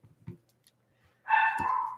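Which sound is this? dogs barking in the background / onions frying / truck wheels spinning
dogs barking in the background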